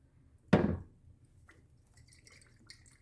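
Worcestershire sauce poured onto a ketchup-and-mustard sloppy joe mixture lands in one brief, close, wet splash, then fades to quiet kitchen background.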